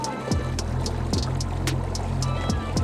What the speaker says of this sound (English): a couple of waves coming up from the speedboat